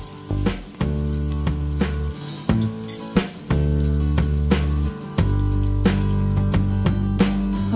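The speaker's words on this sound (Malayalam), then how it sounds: "ചെമ്മീൻ ജസ്റ്റ് ഒന്ന് പൊരിഞ്ഞു വന്നിട്ടുണ്ട്" Prawns frying in oil in a pan, a loud close crackling sizzle broken by sharp pops and spatters that continues steadily with no voice.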